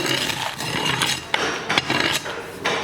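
Sand being leveled in a steel container, scraped and rubbed in a steady gritty rasp with several sharp knocks and taps against the metal, close and continuous without talk.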